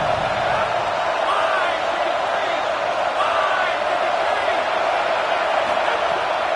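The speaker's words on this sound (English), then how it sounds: "how nice is it to have the home crowd going absolutely bananas?" A home crowd roars loudly and steadily throughout a college football game in the video game CFB 27, a dense stadium wash of cheering with no break.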